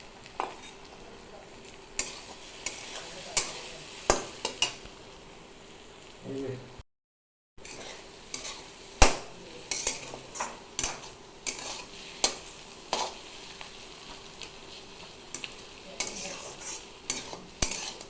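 Potatoes and beaten egg fry in a pan while a utensil stirs them. A steady low sizzle runs underneath repeated metal scraping and clinking taps, with one brief gap of silence partway through.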